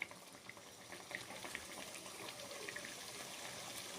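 Pabda fish curry simmering in a pot on the stove, giving a soft, continuous bubbling that stays faint and even throughout, with no voices.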